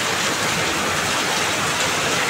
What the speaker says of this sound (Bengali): আমাদের এখানে বৃষ্টি হচ্ছে, প্রচণ্ড বৃষ্টি